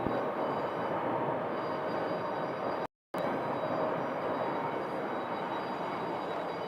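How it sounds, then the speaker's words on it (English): Freight train rolling past on tracks just north of Sky Harbor airport in Phoenix, a steady loud rumble of rail cars close by with continuous wheel noise, briefly cut out midway. "freight train."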